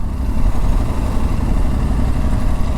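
Aprilia Tuareg 660 motorcycle engine running on a demo ride, a steady, loud low-pitched drone that continues without a break for the whole clip, with no voices over it.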